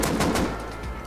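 Full-automatic gunfire in the video game Rust, a quick burst of several rapid shots in the first half-second that then trails off into a fading tail.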